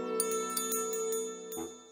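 A small bell jingles in a cartoon, with bright repeated tinkles over a sustained ringing tone that fades out at the end.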